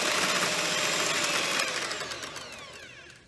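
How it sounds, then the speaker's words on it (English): An electric mixer whisks aquafaba with sugar for a vegan chocolate mousse, a steady loud motor whir with a bright beating texture that gradually softens toward the end. "So I'm gonna add my 10 grams of sugar and continue whisking."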